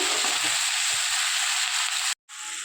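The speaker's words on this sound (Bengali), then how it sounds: "আর মটনটা পুরো আমি ভাজা মশলা দিয়ে বানাবো, এটা ভেজে নিচ্ছি।" Whole spices dry-roasting in a pan for mutton kosha, a steady hissing sizzle with a few light stirring taps, broken by a brief cut near the end.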